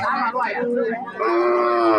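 Cattle at a Thai livestock market give long, loud, drawn-out moos, one call sliding into another, with market noise in the background.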